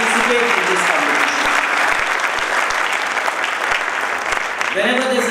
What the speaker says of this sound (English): Please put a round of applause for those who have come to participate in this competition.